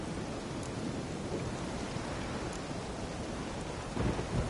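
Thunderstorm in The Witcher 3, a steady wash of rain with a low rumble of thunder building near the end, fairly faint and without talk.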